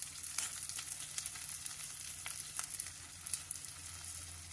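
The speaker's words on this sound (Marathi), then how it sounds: "आता हिरवी मिरची आणि गाजर छान असं या कांद्याबरोबर परतून घ्यायचं आहे।" Onion, green chillies and carrot sizzling steadily in a pan, a constant hiss with faint crackles and the odd stirring clink, close and steady with no voices.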